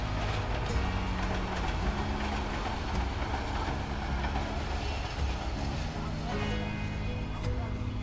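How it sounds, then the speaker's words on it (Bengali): A passing train produces a steady, low rumbling drone with a droning mechanical hum, holding at a constant moderate level for the whole stretch without a clear approach or fade. "ট্রেনটা যাক শব্দ বেশি হচ্ছে"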